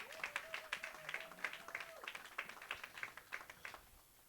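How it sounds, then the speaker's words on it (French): A church congregation at a Sunday service claps together in a steady, rhythmic applause for several seconds, moderately distant, with a held sung or spoken tone briefly audible underneath. "On acclame très très fort."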